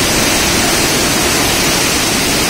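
Swollen river churning at the Pongo de Mainique gorge, a loud, steady broadband roar of rushing floodwater that fills the whole clip with no voices over it.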